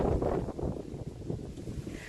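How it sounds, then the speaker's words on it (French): Wind buffets a microphone outdoors, producing a close, low rumbling roar that flutters unevenly for a couple of seconds. "Vous voyez le vent, non? Regardez le vent."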